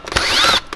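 A power drill whirs briefly while backing out a screw from the door card of a 2005-2011 Suzuki Swift, one short loud burst rising and falling in pitch close up, with small clicks around it.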